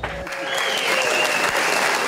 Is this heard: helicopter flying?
no